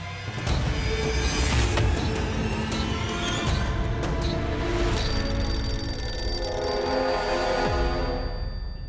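A telephone bell rings steadily and loudly in a home, repeating for several seconds with no voices over it.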